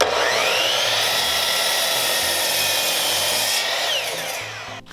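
A Delta Cruzer miter saw makes its first cut, a loud steady high-pitched whine lasting about four seconds with no dust collection attached. It winds down at the end. No one speaks.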